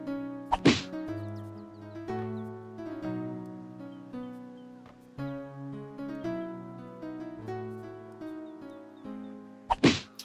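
Sharp thwacks of firewood being chopped in the Conquests of the Longbow video game, a couple of loud isolated strikes near the start and end over a soft melodic music score.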